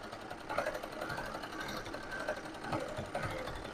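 A zigzag sewing machine stitches fabric with a steady, close mechanical whir and a fast, even stitching rhythm, with no voices present.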